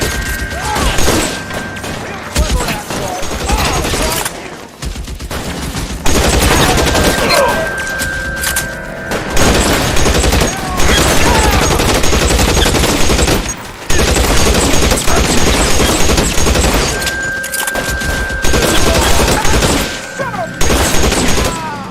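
Dense, sustained gunfire from a shootout in the video game LA Noire, with continuous overlapping rapid shots, loud and unbroken apart from a couple of brief lulls.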